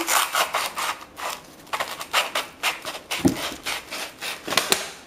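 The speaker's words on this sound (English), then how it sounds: "Now let's begin sanding. Start by rotating this around." Steady rhythmic rasping of sandpaper rubbing a rolled-up piece for a DIY aquarium skimmer, fast back-and-forth strokes continuing without pause, close and fairly loud.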